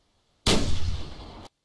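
A single loud gunshot rings out in The Hunter during a reindeer hunt, a sharp blast that holds for about a second before it cuts off, with no talk over it.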